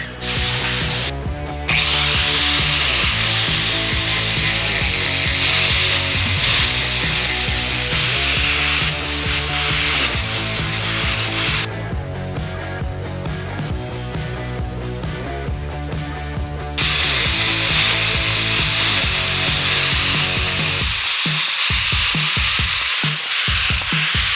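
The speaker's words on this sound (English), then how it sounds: "This wheel is a sanding disc." An angle grinder with a sanding disc runs loudly and continuously on metal with a steady harmonic whine, shifting pitch as it grinds, then winds down near the end.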